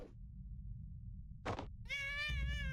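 A cat in the video game Impostor Factory lets out a short, clear meow after a soft thunk, set against a steady low background hum.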